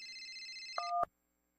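A mobile phone chimes with an incoming call: a steady electronic ringtone holds for under a second, then shifts to a brief lower two-tone before cutting off, alone and fairly quiet.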